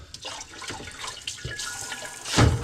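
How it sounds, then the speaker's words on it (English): Tap water runs onto a part from a Kuvings Master Chef CS700 slow cold press juicer while it is spun and brushed under the stream, a close, steady splashing hiss that swells louder near the end. "I'm letting the water run at it and spinning that thing."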